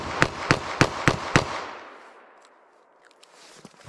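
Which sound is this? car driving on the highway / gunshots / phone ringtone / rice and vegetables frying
gunshots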